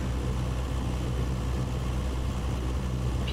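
A loud truck engine in the video game Roblox drones as a constant low rumble with a steady broadband hum throughout, alone with no talk.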